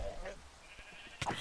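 Sheep bleating in Minecraft, a short game-sound bleat rising near the end after quieter bleats and background game noise, fairly close and moderately loud.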